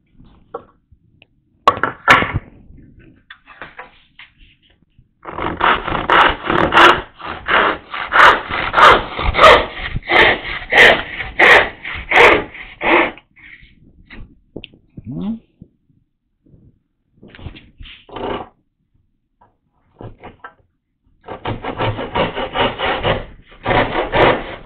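A hand saw cuts a wooden tenon shoulder in rapid rasping back-and-forth strokes, close and loud, in bursts separated by pauses, with a long steady run in the middle and a brief voice in one gap.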